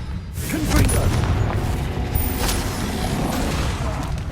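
A Confringo spell blast in the Hogwarts Legacy video game: a loud, rumbling explosive boom with a crackling, debris-filled tail that stays dense and sustained for several seconds.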